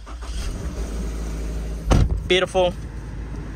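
A 2022 Toyota GR86 GTS coupe in showroom condition starts up from inside the cabin: a low rumble, then a short, sharp burst of the engine catching, followed by a brief spoken remark over the idle.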